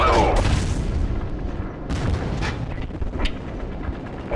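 Call of Duty MW3 combat: heavy booms and bursts of gunfire crack close by over a rumbling battlefield, with mechanical clatter between shots.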